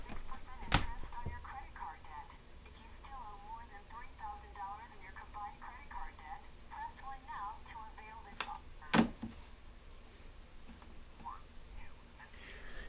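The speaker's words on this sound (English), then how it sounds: "my phone is going to be giving me an obnoxious thing" A phone sounds an obnoxious, chirpy electronic alert, quiet and repeated in rapid warbling bursts over several seconds, with a couple of sharp clicks and faint breathy talk nearby.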